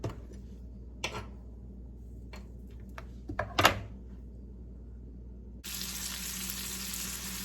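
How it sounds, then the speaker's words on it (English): Tomatoes, a few red ones plus Sun Gold cherry types cut up, sauté in two tablespoons of butter in a pan; a steady broadband sizzle hisses alone, with a few soft ticks and a clatter midway before the frying surges louder near the end. "So we have about 3 of them cut up and in the pan right here, sauteing in 2 tablespoons of butter"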